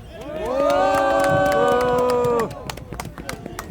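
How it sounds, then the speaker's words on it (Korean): A crowd of elderly protesters at a street rally outside Tapgol Park, Seoul, lets out a sustained, loud collective shout for about two seconds, then breaks into scattered claps and chatter. "힘찬 발언에 비해서 함성이 적습니다"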